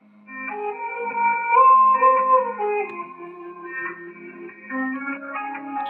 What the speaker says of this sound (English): Dynamic noise limit reduction. So well, it can help it, but it can sound a bit weird.